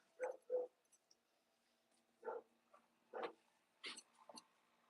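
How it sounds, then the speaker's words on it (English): Small dogs yap in short, separate bursts, two quick barks then a few more spaced over several seconds, fairly close but not loud in a quiet room. "I don't want y'all barking"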